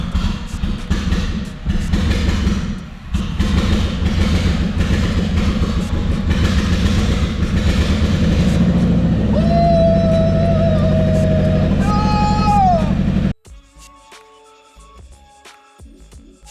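A Subaru EJ25 engine from a 1998 Impreza 2.5RS runs with no exhaust at all, a loud, raw, rough roar with rising revs and whining tones before cutting off abruptly near the end.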